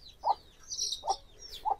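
A hen walking about with her chicks gives three soft, evenly spaced clucks, while thin high chick peeps run between them, close by in a quiet yard.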